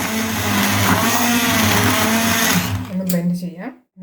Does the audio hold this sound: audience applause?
no